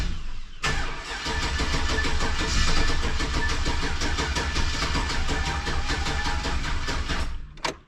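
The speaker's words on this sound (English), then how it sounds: "All right, let's fire it up and we'll see how it works." A lifted Honda Civic engine cranks and catches, then settles into a loud, close, steady running rumble for several seconds before cutting off abruptly.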